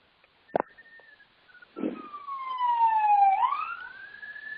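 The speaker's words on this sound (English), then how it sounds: "Police sirens." A police siren wails in the distance, rising and falling, after a couple of faint clicks and a brief low thud.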